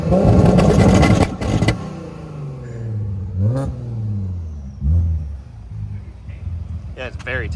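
Built engine in an Audi B5 S4 revving and pulling hard, loud at first, with wind buffeting and voices talking over it as the pitch climbs and drops.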